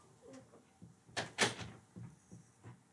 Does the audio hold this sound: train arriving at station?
no